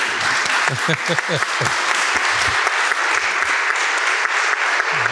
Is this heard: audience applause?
yes